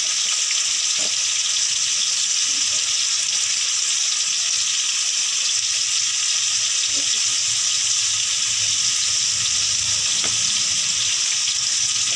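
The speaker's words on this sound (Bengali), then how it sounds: "পরিমাণ মতো নুন আর পরিমাণ মতন হলুদ দিয়ে টমেটোটাকে লাল লাল করে ভেজে নেওয়া হবে" Tomato fries with salt and turmeric in a pan for a mustard-poppy seed pabda fish curry, producing a loud, continuous hissing sizzle that runs unbroken throughout with a few faint knocks, close and with no talking.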